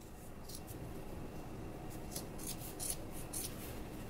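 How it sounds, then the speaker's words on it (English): Scissors trim a fabric seam allowance on a McCall's 7575 sewing project, a series of quiet, close snips and soft rubbing of cloth, faint and without talk. "go ahead and grab your scissors and we'll trim that down now."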